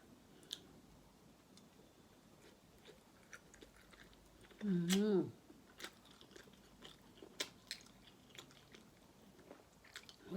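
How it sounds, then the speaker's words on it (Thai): Someone eats a spicy Thai fish ball salad with soft fish, giving close crunchy bites and moist chewing, with one louder burst midway, against a quiet background with faint clicks. "กินปลานุ่มๆ"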